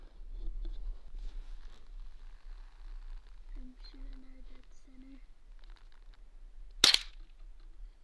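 A single sharp gunshot fired into a 3/4-inch MDF board during an epoxy resin strength test cracks out near the end, after quieter handling noises and a brief voice.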